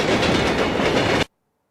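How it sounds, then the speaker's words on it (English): Stock sound effect of a moving train: a loud, steady rumbling clatter of wheels on rails filling the clip, then cutting off abruptly into silence. "I love how it's always just the exact same stock sound effect of a train moving."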